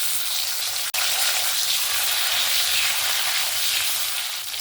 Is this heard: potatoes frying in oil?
yes